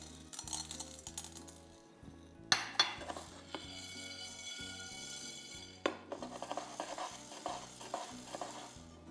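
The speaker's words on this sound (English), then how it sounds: "let's toast a little bit the black pepper" Black pepper toasting in a pan for cacio e pepe pasta brings repeated scraping, stirring and metallic clinks, close and fairly quiet, with no talking.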